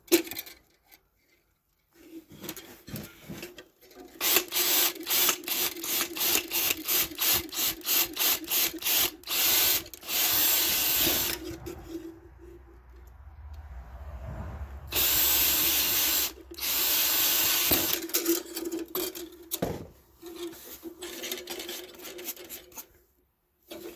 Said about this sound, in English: Let's see if we can drill a hole from the inside.